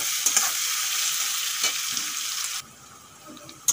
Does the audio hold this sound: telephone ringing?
no